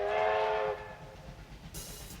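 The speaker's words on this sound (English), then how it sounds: "There's the train now." An arriving train sounds a loud, steady horn blast that cuts off after under a second, followed by a low rumbling of rolling cars.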